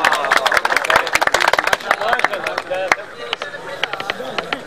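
Lively clapping from a crowd at a poetry recital (mushaira) in a college welcoming a poet, dense and uneven with murmuring voices mixed in.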